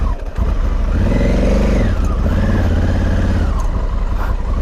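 A Honda Africa Twin motorcycle engine revs hard off-road, a loud continuous mid-pitched drone that rises and falls as the throttle is held up, close by with no talk.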